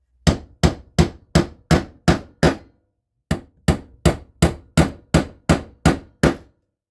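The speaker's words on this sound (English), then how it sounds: "lay it on your workpiece and just hammer those nails in" Sharp hammer blows on nails, a steady run of seven strikes, a brief pause, then nine more in even rhythm, close and loud.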